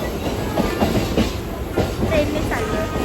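Inside a moving train bound for Dadar, steady rumbling carriage noise runs with rhythmic clickety-clack wheel beats and some rattling, close and continuous.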